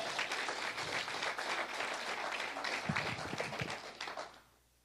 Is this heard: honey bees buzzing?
no